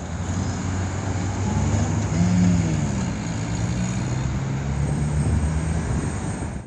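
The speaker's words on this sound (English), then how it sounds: "there's more wind noise than I would prefer" Heavy wind buffeting on a camera microphone beside busy freeway traffic on a very windy day, a steady loud low rumble that swells slightly midway and never lets up, with no voices.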